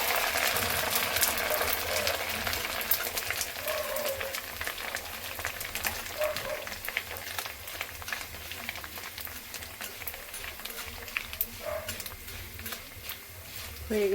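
Rice grains frying in hot strained oil, a steady dense sizzle and bubbling hiss running throughout at close range, with occasional faint clinks of utensils.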